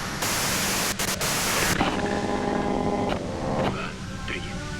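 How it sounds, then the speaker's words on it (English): Broadband white-noise static in the Disco Elysium video game, a steady loud hiss filling the whole clip, with faint tonal game sounds and a low hum appearing partway through. "you can do it through the white noise"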